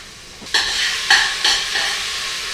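Chinese sausage sautéed in a pan, a steady sizzle with several sharp scraping stirs of a utensil, close and alone without talk.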